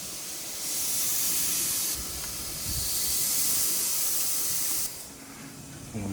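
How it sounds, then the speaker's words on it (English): Scaled, gutted and seasoned fish sizzling on an outdoor grill in the Florida Keys, a steady hiss that swells louder for a few seconds at a time and then drops back, heard alone. "We got our fishes scaled, gutted, seasoned, and ready to go on the grill."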